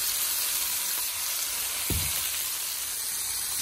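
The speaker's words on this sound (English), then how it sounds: "We're gonna put the chicken aside and put in our broccoli. Everything in the same frying pan." Broccoli sizzles in a frying pan after chicken is cooked and set aside, a steady close frying hiss with one brief soft thump midway.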